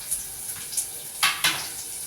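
Chopped onions sizzle in hot oil in a pan while cooking an egg dish, with a steady frying hiss broken by a few sharp clinks and clatters of a utensil against the pan.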